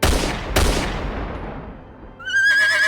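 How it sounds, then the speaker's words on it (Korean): Sharp gunshot cracks open a night ambush sound effect, followed by a fading reverberant tail and a high, wavering cry like a shout or whinny at the end. "달빛 아래 교교하던 골짜기가 총소리와 고함으로 뒤덮였습니다"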